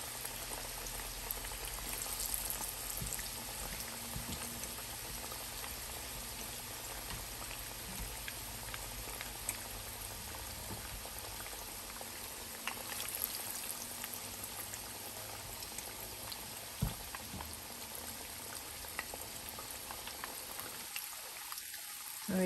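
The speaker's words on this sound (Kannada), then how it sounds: "10-12 ನಿಮಿಷ ಈ ಸೈಡ್ ಅದು ಫ್ರೈ ಆಗಿ." Chicken wings kebab fries in a pan over a medium flame, making a constant quiet bubbling sizzle that holds steady until it drops off near the end.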